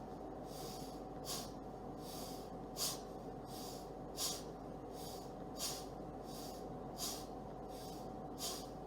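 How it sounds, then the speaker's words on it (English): Forceful breathing exercise with sharp, jerky exhalations: about six breathy bursts at a steady rhythm, roughly one every second and a half, over a constant low background hum. "put a palm on your stomach, breathe in and breathe out with a jerk."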